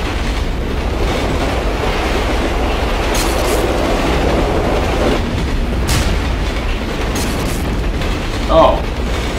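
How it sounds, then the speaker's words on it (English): Train riding through dark tunnels over electrified rails in the video game Condemned: Criminal Origins, a steady loud rumble with rattling carriage noise and a few brief bright bursts near the end. "it is a nice train ride"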